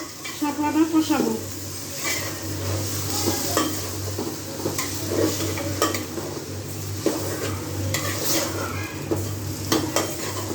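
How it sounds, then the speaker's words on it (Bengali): Water lily stems (shapla) being stir-fried in a pan, with a steady sizzle under repeated scraping and clinking of a spatula or spoon against the pan, and a voice speaking in places. "এখন আমি সুন্দর করে শাপলাটা কষাবো।"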